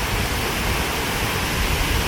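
A waterfall near Konnakkad in Kasaragod district, beside forest, gives a steady, loud, close rushing roar with no break and no voices.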